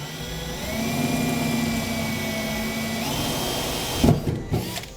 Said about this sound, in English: Make our pilot hole now.